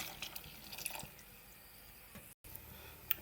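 Coconut milk poured into a pot of cooked peas with thyme and scallion, heard as faint close dripping and splashing liquid with soft wet squishes, no talking.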